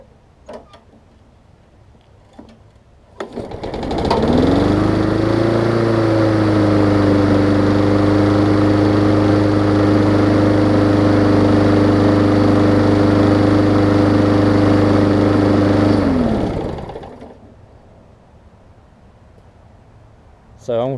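A Murray 22-inch push mower engine catches after a pull and settles into a loud, steady idle that runs for about twelve seconds before cutting out, leaving quiet.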